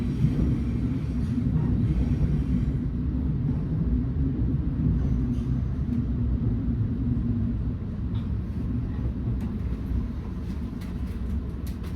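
Sydney Trains B set, B7, running on a diverted service toward North Sydney, a steady low rumble of the carriage in motion held at an even level for the whole stretch without talk.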